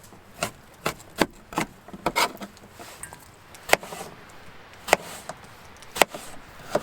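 Knife chopping Savoy cabbage on a board to make slaw: a series of sharp, close, distinct chops at an irregular rhythm, each stroke a crisp percussive tap over a quiet background.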